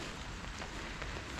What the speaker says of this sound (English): I really don't mind the rain.